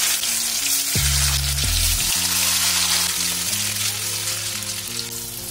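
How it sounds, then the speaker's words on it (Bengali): Paneer frying lightly in white oil in a kadai, a continuous close sizzle under a steady bed of background music, with no talk. "এবার তেলের মধ্যে আমি পনিরটাকে হালকা করে ফ্রাই করে"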